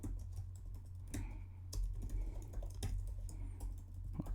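Typing on a computer keyboard while writing JavaScript code, with quick, close key clicks coming in irregular bursts and brief pauses over a low steady hum.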